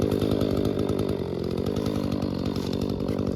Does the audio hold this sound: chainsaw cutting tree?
yes